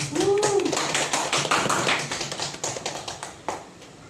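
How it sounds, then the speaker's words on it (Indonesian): An audience applauds at an education dissemination event for prospective teacher trainees in Karimun, a loud burst of clapping that thins into scattered, fading claps over a few seconds. "Kasih tepuk tangan dulu Pak."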